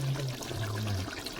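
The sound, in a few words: chicken curry bubbling while cooking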